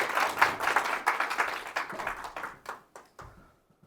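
An audience of business owners at a company seminar claps together in self-congratulation, a burst of close applause that thins out into a few scattered claps before fading to quiet.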